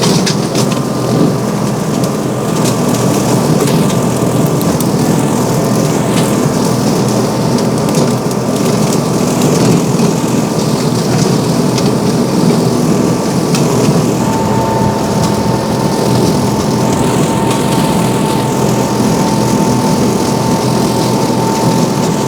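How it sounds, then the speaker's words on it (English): An ISEKI SRA950FA 21-horsepower brush cutter with a 95-centimetre cutting width chews through vegetation, wood and debris, a loud, continuous, rough roar of engine and flailing blades that holds steady throughout, with no talking. "So that was the SRA950FA brush cutter."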